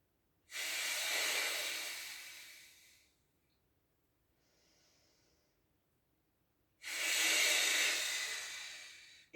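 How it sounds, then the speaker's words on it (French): Slow, deep breaths during a relaxation exercise: two long, airy exhalations several seconds each, with a softer intake of breath between them, close and with no talking. "Inspire et expire."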